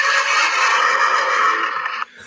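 A horse whinnies loudly in a long quavering neigh lasting about two seconds before cutting off abruptly, heard in the comedy film Young Frankenstein.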